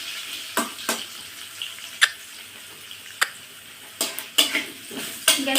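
Potatoes frying in a pan on a gas stove, with a soft, steady hiss beneath sharp, intermittent clinks and scrapes of stirring spread irregularly across the few seconds.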